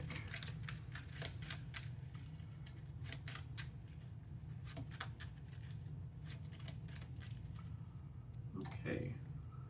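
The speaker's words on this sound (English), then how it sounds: "and we'll shuffle the deck." Board game cards are shuffled close by in a quiet room, a string of short crisp riffling snaps and slides arriving in irregular bursts, with a brief rustle near the end.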